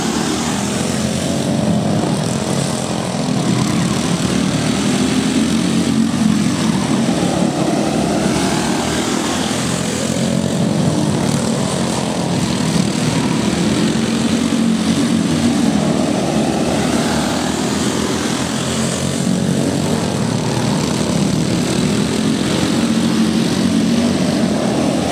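Race cars roar around the Streby Speedway dirt oval during a dash race, a steady loud engine drone that swells and fades as the pack passes, with no voices over it.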